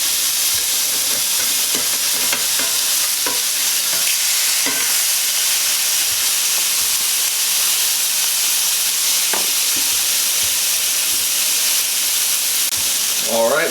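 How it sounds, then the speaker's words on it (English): Burger patties sizzle steadily in a pan or on a griddle while a spatula scrapes and flips them, with clanks and scraping strokes audible over the constant frying hiss. "you want to get your spatula under there"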